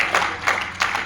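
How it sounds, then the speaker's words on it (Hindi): An audience at a kavi sammelan, a Rajasthani poetry gathering, claps in a few quick bursts, a short, moderately loud patter of hands. "एक बार जोरदार तालियां बजा दी"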